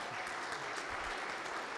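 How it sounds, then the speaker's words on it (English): A church congregation at a full Sunday service gives a short burst of dense, even applause welcoming a new baby, steady and fairly close throughout. "How about a round of applause, huh?"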